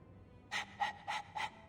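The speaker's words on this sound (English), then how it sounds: "All that noisy dog breath," Four quick, raspy panting breaths from a dog in the video game Dragon Age II, in a steady rhythm, close and clear, after a brief quiet moment.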